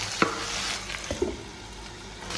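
Chicken asado being stirred in a hot pan, a spoon scraping and clattering in a few brief strokes over a steady frying sizzle, close by and without voices.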